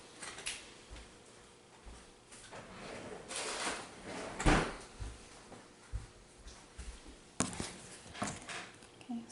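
Drawer being opened and closed while gathering rubber band supplies for a loom craft, a few short sliding and knocking bursts, one louder thump midway, fairly quiet and close with no talking.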